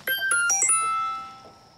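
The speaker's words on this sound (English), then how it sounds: "There's that elusive phone call during the one cast." A mobile phone ringtone chimes out on a fishing trip, a quick run of bright bell-like notes that rings close and clear, then fades away.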